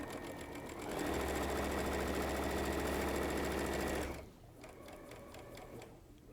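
A sewing machine stitching a quarter-inch seam on patriotic placemat quilt pieces with a quarter-inch foot, running in a steady, fast, buzzing whir for about three seconds before stopping, followed by faint ticking.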